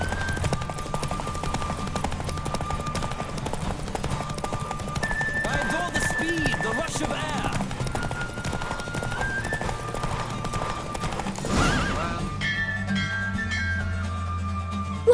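Rapid clip-clop of galloping hooves in the video game The Witcher 3: Wild Hunt over a steady game soundtrack, with a horse neighing partway through and music swelling near the end.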